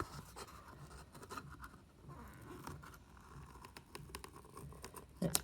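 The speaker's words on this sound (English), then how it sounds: "And then with my scissors, I'm going to go in pretty deep." Scissors cut into a squished cardboard paper roll, producing faint, close scratchy snips and crunches in an irregular run, ending in a sharper crunch.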